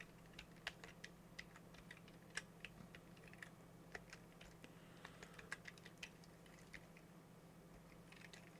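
A computer keyboard is typed on to enter a password during an operating system install, producing a steady run of soft, close key taps over a faint constant hum.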